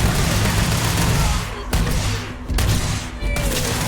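Heavy, continuous weapons fire and booming impacts roar through a Starfield space combat scene, with a few abrupt breaks and a sharp crack between dense bursts.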